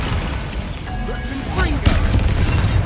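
Bombarda spell in Hogwarts Legacy, a heavy low rumbling boom with crackling debris, building louder toward the end and overlaid by a voice.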